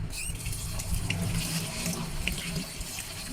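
Tap water runs steadily into a pot of rice for washing, a close, continuous rushing splash with no talking.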